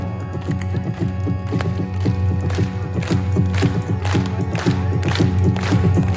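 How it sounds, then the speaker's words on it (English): A live concert crowd at MHP Arena in Ludwigsburg, clapping in time to a song: a steady, rhythmic wash of many hands beating along with the loud band music and the hum of the crowd. "raise your hands and clap your hands, keeping the pace, the groove, and the rhythm of the song from the very top to the very end"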